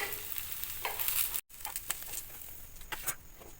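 Bread, potato and cheese rolls frying in oil, a soft, fairly quiet sizzle with light crackles and a brief cut in the middle.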